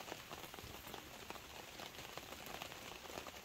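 Steady rain patters densely on surfaces at a car camping site, a continuous faint hiss of many drops with no other sounds standing out.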